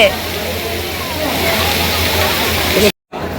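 Water fountain at Kamakhya temple splashing steadily in a continuous rushing wash, with people talking nearby before an abrupt cut.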